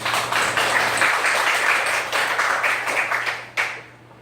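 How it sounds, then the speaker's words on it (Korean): A church congregation gives a full round of applause at a Korean liberation anniversary service. The clapping is loud and steady for about three and a half seconds, then cuts off sharply and a faint tail lingers. "하나님 이 광복을 주신 하나님께 우리 같이 한번 영광의 박수를 올려드리겠습니다"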